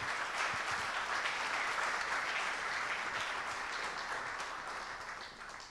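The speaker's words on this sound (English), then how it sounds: "The applause is yours" Conference audience at an international investors' gathering in Vienna applauds in a steady wash of clapping that gently fades toward the end.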